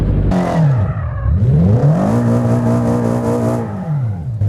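A car in BeamNG.drive revs hard, its engine pitch sweeping up and down through gear changes before holding a steady high drone, then dipping again near the end.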